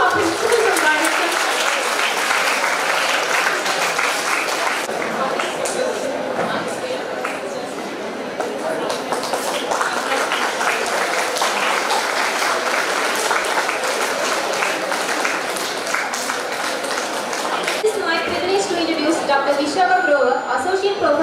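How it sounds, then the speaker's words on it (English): Sustained applause from an audience at a dental college celebration for its Principal and Director, dense clapping filling a hall for about twenty seconds, with some voices and chatter mixed in. "So huge round of applause to our Principal and Director."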